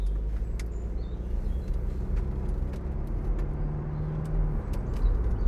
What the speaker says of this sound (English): So I'll just drive down the road and a bit up the dual carriageway.